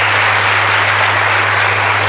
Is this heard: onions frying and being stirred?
no